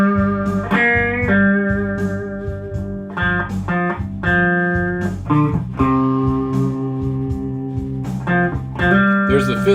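Guitar lines move through changing chords, with sustained notes and clear shifts in harmony every couple of seconds, steady and fairly loud without any talking.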